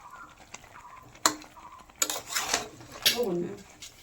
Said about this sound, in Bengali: এই যে ঢাকনা দিয়ে দাও, কপিটা তো ভাজা আছে